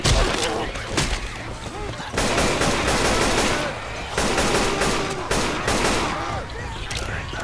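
Dense gunfire in Left 4 Dead 2 with rapid automatic bursts and repeated shots in clustered volleys, loud and close, while players shout over the shooting.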